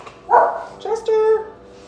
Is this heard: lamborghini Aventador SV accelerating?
no